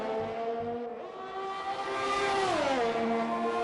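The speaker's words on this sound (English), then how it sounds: "I can't tell when I'm listening to the car engine if I can hear rumblings in the tires." A Formula 1 car engine in the F1 2020 racing game at the Canadian Grand Prix, holding a high, steady whine, then climbing in pitch under acceleration before dropping sharply on a gear change, close and loud.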